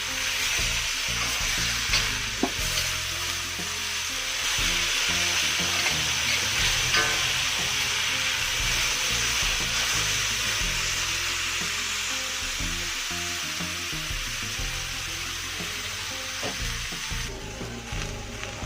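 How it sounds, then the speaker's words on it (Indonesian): Steady loud sizzling of bean sprouts stir-frying in a hot pan, with occasional scraping and clatter of a utensil tossing them, continuous throughout. "Ini namanya tumis kering toge."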